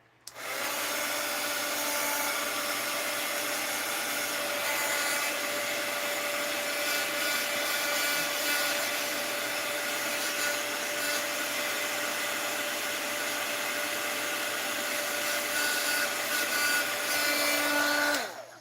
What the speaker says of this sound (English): Let's hit it with the heat gun again.